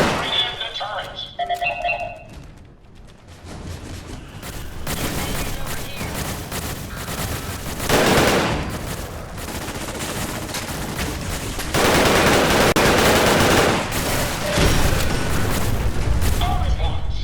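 Turret machine guns in the Fallout 4 Automatron game fire sustained rapid bursts with loud booming swells throughout, while a voice talks over the gunfire.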